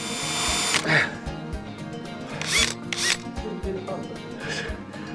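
A drill with a dull bit works on a Mustang restomod's door jamb, whirring in uneven bursts and grinding stutters, close by, with some talk in the background.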